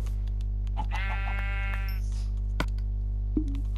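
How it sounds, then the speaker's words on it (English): A Minecraft sheep gives one clear wavering bleat, close and fairly loud over a constant low hum, followed by a couple of short clicks. "Oh, there's a sheep."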